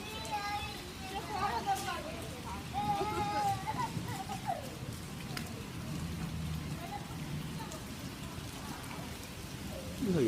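Steady rain falls during a thunderstorm in Brooklyn, New York, a constant hiss of drops on surfaces heard at moderate distance, with children's voices and other neighborhood noise mixed in throughout.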